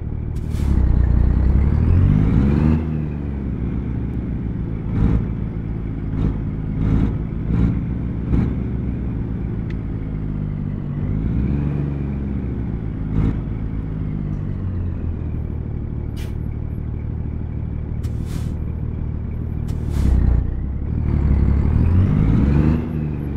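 A truck in American Truck Simulator idles and revs with a low, steady diesel rumble, broken by several sharp hisses from the air brakes and swells of engine noise near the start and end, with no voices.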